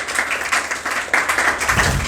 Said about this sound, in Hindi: एक बार जोरदार तालियों से दीपा राठौर का सम्मान करेंगे सब लोग।